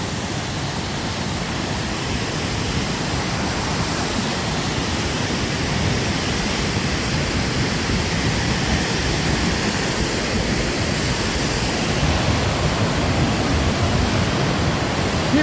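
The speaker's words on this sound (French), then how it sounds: "Torrent issu du Oberhalech Gletscher." Meltwater torrent from the Oberaletsch Glacier in the Swiss Oberland rushes over stones in a steady, loud, unbroken roar of broadband water noise that holds constant throughout, with no voices.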